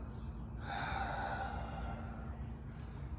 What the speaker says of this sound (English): get a good exhale